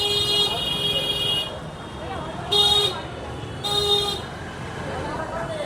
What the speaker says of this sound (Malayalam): ഹോണടിയാണ് ഇവിടുത്തെ ഏറ്റവും വലിയ ഹൈലൈറ്റ്.